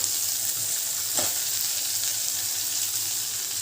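Crushed garlic, onion and tomato frying in a pan for a homemade masala, giving a steady, dense sizzle close by with a soft stirring scrape partway through and no voices.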